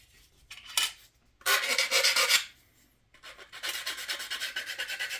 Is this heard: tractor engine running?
no